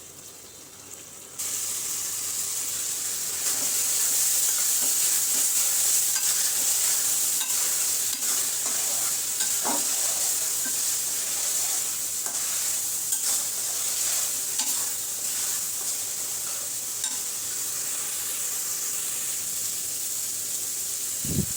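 Spice paste with green chilies stir-fries for a duck meat curry, giving a steady, close sizzle with occasional scrapes of the spoon against the pan.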